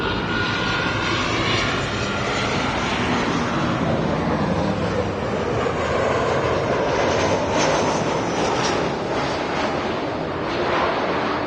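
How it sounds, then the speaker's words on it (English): Fixed-wing airliner taking off from runway 24 left at Los Angeles International Airport, a loud, continuous engine roar that stays steady and broad throughout with no one speaking. "runway 24 left,"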